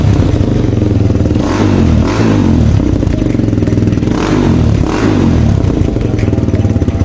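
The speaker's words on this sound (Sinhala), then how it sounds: "මේ බයික් එකේ සවුන්ඩ් ටෙස්ට් එක කරලා පෙන්නන්න" TXM 250cc motorcycle engine revving loudly and steadily up close, with repeated throttle blips rising and falling over a continuous rumbling idle, no voices.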